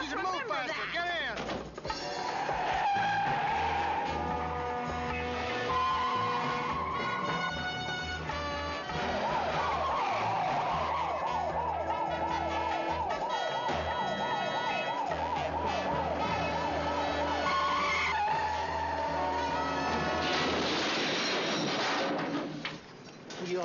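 A police car siren wails continuously and up close in a 1970s television crime drama, its rising and falling tone running over engine rumble and other scene sounds.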